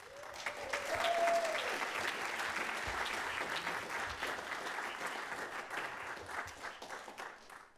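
An audience at a New Music Salon jazz quartet concert gives a warm round of applause for the producer, steady moderate clapping that swells early and continues evenly for several seconds before gradually thinning.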